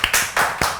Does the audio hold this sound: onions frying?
no